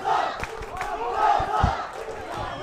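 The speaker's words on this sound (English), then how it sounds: "And both crowd now getting behind this goal." Spectators at a St. Joseph's College versus Kingswood College schools rugby match roar continuously behind the goal, a dense, loud crowd swell with scattered shouts rising and falling.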